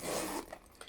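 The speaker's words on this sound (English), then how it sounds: "The zipper is very smooth." A zipper on a Louis Vuitton bag runs in one smooth, close pull, a brief rasping slide that fades after about half a second, followed by a few faint handling sounds.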